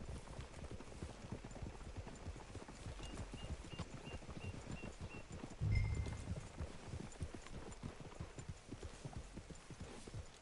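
Horses walk along at a steady pace, hooves clip-clopping in an even, continuous rhythm at moderate distance, with a brief louder thump midway and no talk.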